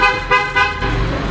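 A car horn sounds in a few short, loud blasts, close by, with steady traffic-like noise underneath.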